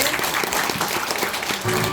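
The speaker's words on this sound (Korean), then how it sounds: "박수 한번 다시 한번 할까요?" An audience at a laughter therapy session claps together in a brief burst of dense, steady applause, with a faint voice and music underneath.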